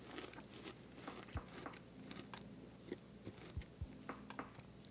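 Crunching bites of baked pretzel snacks, Combos-style, chewed close to the mouth in a quiet room, with several sharp crunches and chewing crackles spread across a few seconds and no talking.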